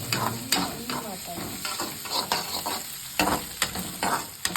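Pasta frying in a pan and being stirred, a close sizzle with repeated scraping and clinking strokes of a spoon against the pan at irregular intervals, with no talking.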